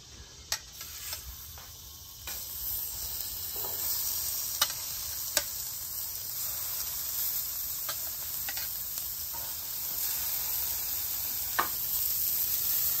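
Buns for smashed taco burgers warm and crisp on a griddle, giving a steady, fairly quiet sizzle with occasional faint clicks and ticks and no talking.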